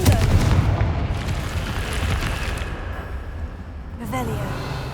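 A Confringo fire spell detonates in Hogwarts Legacy, a loud booming blast at the start that rumbles and fades, with softer game effects trailing after and a voice calling out over it.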